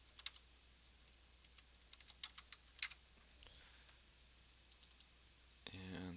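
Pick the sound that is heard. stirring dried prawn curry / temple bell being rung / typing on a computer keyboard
typing on a computer keyboard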